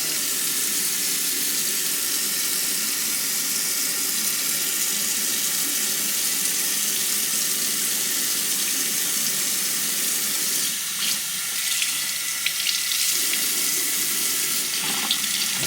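Water runs steadily from a tap to fill a newborn baby's first bath, a constant close hiss of flowing water lasting throughout with only brief dips near the end.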